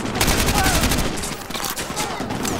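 Rapid gunfire bursts from a Modern Warfare 2 Remastered street firefight in the USA, loud and continuous for the whole stretch, with overlapping shots and a voice talking faintly underneath.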